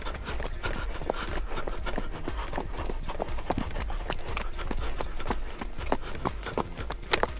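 Steady rhythmic clip-clop of a horse's hooves at a trot along an outdoor ride, close and continuous, with occasional voices faintly in the background.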